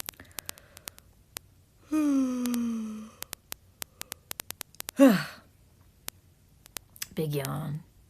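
A single big, drawn-out yawn sounds up close, lasting about a second, followed by a shorter vocal sigh and a breathy exhale, with scattered soft clicks in between against a quiet background.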